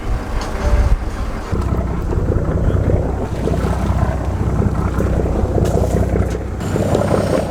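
A boat motor drones steadily under heavy wind buffeting and splashing water off Antalya, loud and continuous throughout.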